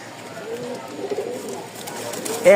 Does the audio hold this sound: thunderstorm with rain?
no